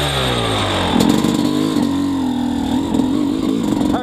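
A motorcycle fitted with a Lectron Billetron Pro 38 carburetor running at very low RPM in first gear, a loud close steady engine note with a slightly wavering pitch and no talk.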